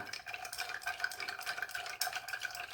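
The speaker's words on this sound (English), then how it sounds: "you take your spoon and you stir" A spoon stirs a cocktail in an old-fashioned glass, giving a steady run of light, bright clinks and scrapes against glass and ice that carry through the whole stretch without any voice.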